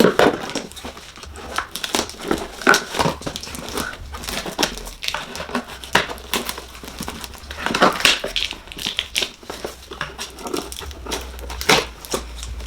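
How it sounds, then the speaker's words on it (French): Cardboard parcel packaging being torn open and crumpled nearby, a busy run of crinkling, crushing and rustling bursts across the whole stretch with no talk. "Je ne sais pas si je vais réussir à ouvrir ce colis."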